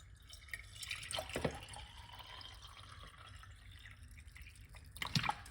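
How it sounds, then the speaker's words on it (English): Water trickles and drips into a container of cloves, quiet and close, with small splashy bursts near the start and end. "And now we're going to put some water."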